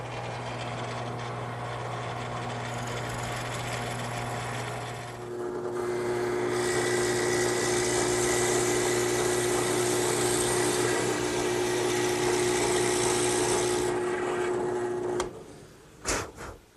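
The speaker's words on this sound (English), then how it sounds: "Now I'll just bore a hole about 6 inches deep." A 5-in-1 woodworking tool bores a hole about six inches deep into wood, a steady motor whine that rises and strains as the bit cuts, then winds down with a few clunks at the end.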